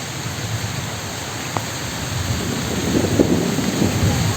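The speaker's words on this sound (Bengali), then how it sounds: "এই যে বৃষ্টি শুরু হয়ে গেছে" Steady rain hisses throughout, with a low rumble building toward the end and a brief sharp crack midway, like distant thunder in a storm.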